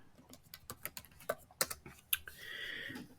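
Keys tapped on a computer keyboard while entering patient information, a run of quick, irregular clicks, fairly close and fairly quiet, ending in a soft steady hiss.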